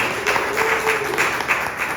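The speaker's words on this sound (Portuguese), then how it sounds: "queridos, aplauda o Senhor." Church congregation applauding during an Easter worship service, a soft, steady patter of many hands at moderate distance.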